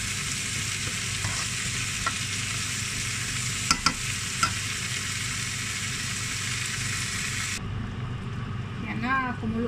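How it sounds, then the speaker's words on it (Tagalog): Ginataan kalabasa with malunggay simmers in a pot, a steady bubbling, sizzling hiss close by, with a few clinks of a utensil against the pot. "Yan na, kumulo na."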